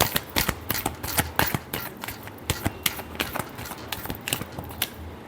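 A deck of tarot cards riffles and slaps in quick repeated shuffles, close and crisp, with steady rhythmic bursts throughout and no talk.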